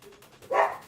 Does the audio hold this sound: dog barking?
yes